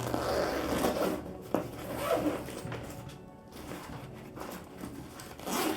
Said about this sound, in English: you open this zip.